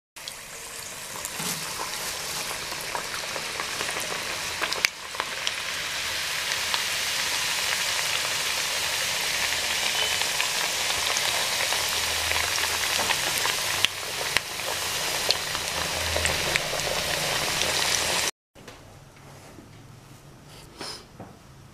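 Chekkalu, Telangana rice crackers, frying in hot oil, giving a dense, steady hiss and crackle like heavy rain, close and continuous before cutting off abruptly into a quieter stretch.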